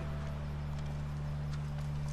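Horse hooves clip-clop in the video game The Last of Us Part I, faint repeated hoof taps over a steady low droning hum throughout.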